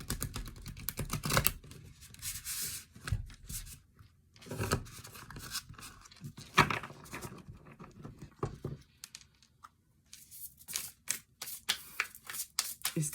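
Thick tarot cards riffled and shuffled in bursts of crisp rustling and flapping, close and fairly loud, with short pauses between rounds and no talking.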